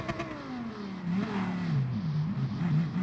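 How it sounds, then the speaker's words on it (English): Car engine in a racing video game revving repeatedly on an oval before a rolling start, the pitch rising and falling in uneven bursts, fairly close and alone with no talk. "Again, didn't think about the rolling start, revving it stupidly for no reason."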